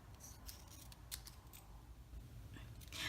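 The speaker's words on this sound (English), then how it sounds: "Then I'm going to cut down this metallic doily." Scissors snip through a metallic foil doily during card making, a few quiet crisp cuts close by over low background hum.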